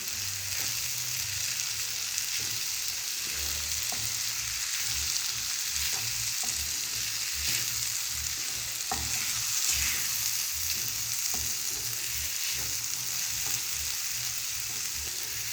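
Bottle gourd curry with green chili paste is stirred in a frying pan, giving a steady close sizzle with repeated soft scraping strokes of the spoon and no talking.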